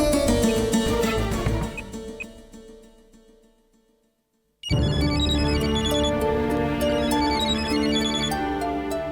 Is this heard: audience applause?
no